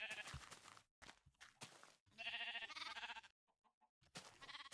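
Minecraft sheep bleat in a run of loud, close cries, broken by a short quiet gap before one more bleat ends it.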